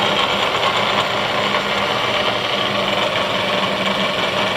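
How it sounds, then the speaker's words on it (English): Gear chatter from the head of a Bridgeport 1.5 HP vertical milling machine, a steady dense mechanical whir with fine rattling texture running continuously and fairly loud, no voices. "As you can hear up top, it's not horrible, but there's a little bit of gear chatter."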